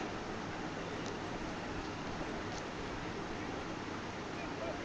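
Strong ocean waves break at Chethi beach, a dense continuous wash of surf with wind on the microphone, while someone talks over it.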